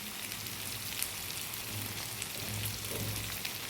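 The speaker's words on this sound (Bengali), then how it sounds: "এবার উচ্ছেগুলো একদম ভালো করে চিপে এই যে তেলে দিয়ে দিচ্ছি।" Squeezed bitter gourd hisses and crackles in hot oil, a steady, close sizzle with no talking over it.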